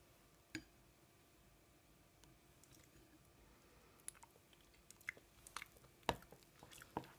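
Close, quiet eating of a spoonful of Nutella mug cake, soft scattered mouth clicks and sticky chewing sounds, growing more frequent toward the end, no talk.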